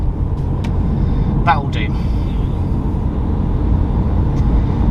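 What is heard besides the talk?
road traffic passing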